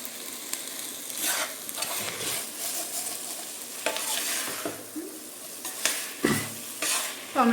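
Tomatoes frying with ginger garlic paste in a pan for paneer biryani, with a steady crackling sizzle broken by repeated scraping strokes of a spatula, a few louder near the end.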